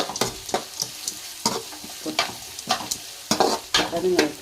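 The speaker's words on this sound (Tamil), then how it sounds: "வெங்காயம் வதங்க இந்த அளவு காய் பண்ணணும்" Onions sauté in hot oil in a pan, with a steady sizzle broken by repeated scraping stir strokes of a spoon against the pan, close and fairly loud, with no voices.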